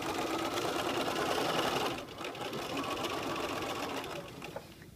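A sewing machine stitches steadily up a lapped zipper seam at a long stitch length, its motor whirring loud and close for about two seconds before slowing to a softer, sustained run.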